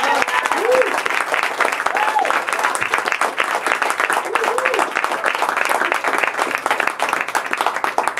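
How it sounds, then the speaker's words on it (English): Steady, dense applause from a bookstore audience cheering high school poetry contest winners, continuous and fairly loud throughout, with a few voices and whoops rising over the clapping. "let's have another round of applause for all the winners"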